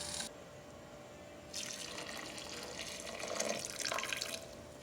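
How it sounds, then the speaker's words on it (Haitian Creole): Hot water poured from a pot onto meat during preparation of Haitian soup joumou, a splashing pour that cuts in and swells louder, stops briefly, then runs on again, with no talk. "nous allons mettre de l'eau chaude dans la viande"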